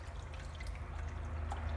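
Lime and water being stirred together for a mushroom substrate, heard as soft close sloshing with scattered drips and trickles at low volume and no talking.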